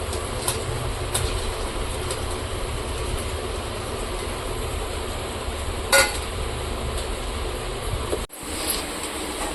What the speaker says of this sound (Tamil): வெங்காயம் தக்காளி நல்லா வதங்கி வந்துச்சு இப்போ நம்ம மிக்சியில் அரைச்சோம்